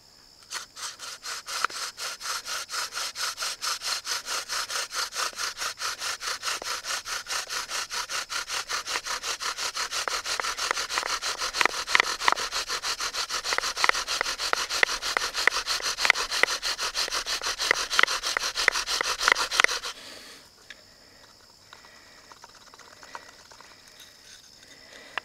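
A bow drill spindle rubbing rapidly against wood with a limestone handhold, making a steady rhythmic scraping rasp, close and continuous for about twenty seconds before it abruptly stops.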